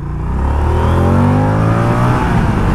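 A Moto Guzzi V100 Mandello motorcycle accelerates hard and shifts up, its engine note rising in loud, close sweeps with a brief dip at the gear change, wind noise underneath and no speech.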